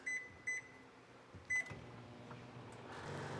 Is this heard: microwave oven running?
yes